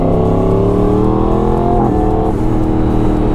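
A 2016 Yamaha R1 sport motorcycle engine revving loudly and close, a dense continuous roar with rising and falling throttle blips, no talk.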